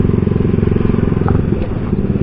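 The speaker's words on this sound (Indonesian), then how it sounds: "gue justru suka suaranya kalau digeber dengan posisi valve ditutup gini" A motorcycle revs with its exhaust valve closed, a deep, throbbing exhaust note, close by and fairly loud, with a slight rise in pitch.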